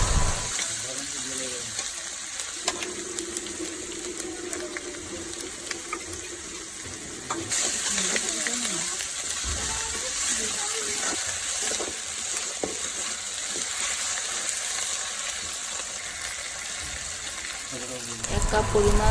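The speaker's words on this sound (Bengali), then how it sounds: "মশলাগুলো ভালো করে কষিয়ে নেব।" Spice paste with ginger and garlic sizzling and frying in a pan, with a steady broadband hiss and occasional stirring scrapes running throughout.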